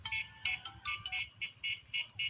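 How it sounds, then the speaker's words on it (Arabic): A telephone ringing out in the farm fields, its electronic ring repeating in short, evenly spaced bursts, close and clear with no voices over it. "استنى كده تلفون ما يرن"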